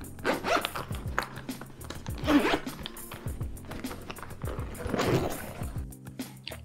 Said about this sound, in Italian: abbiamo questa specie di valigetta semirigida con l'apertura a cerniera